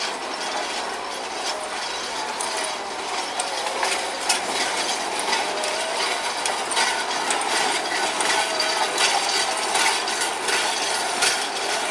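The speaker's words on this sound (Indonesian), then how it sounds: "sebentar lagi kedua lokomotif akan melewati jembatan ini" Locomotive number 5 of the PG Jatiroto sugar mill passing over a bridge, heard as a steady metallic clattering and ratcheting rumble of wheels and running gear, continuous and fairly close for the whole stretch, with no talking.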